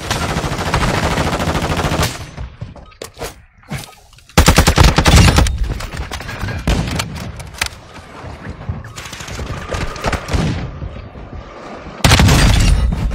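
Loud bursts of rapid automatic gunfire and heavy shots ring out in a shooter video game, separated by short quieter gaps.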